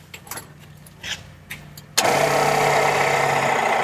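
Rat rod race car engine starting after a few quiet clicks and rattles, then catching abruptly into a loud, steady idle that holds to the end.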